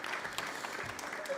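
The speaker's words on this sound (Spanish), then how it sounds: "Otro aplauso para él" Audience applause at a tech conference in Málaga, a short dense patter of clapping from a seated crowd that fills the whole moment at steady loudness, with no one speaking over it.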